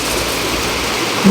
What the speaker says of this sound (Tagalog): Ayan, inabot na kami ng ulan.